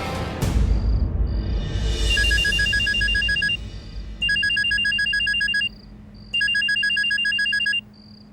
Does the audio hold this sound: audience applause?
no